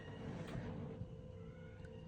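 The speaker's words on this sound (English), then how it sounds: "I don't know if you can hear my cat in the background" A house cat meows in the background, with a faint drawn-out yowl under steady low indoor room noise.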